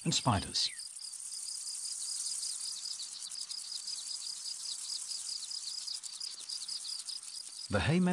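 Dense, steady insect chirping from grasshoppers in an alpine meadow of the Hohe Tauern in Austria, a continuous high shimmer lasting the whole stretch with a brief louder call at the start and end.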